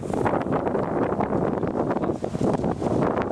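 Strong wind buffets the microphone in Florida as Hurricane Irma approaches, a steady loud roaring rush with brief dips and no voices.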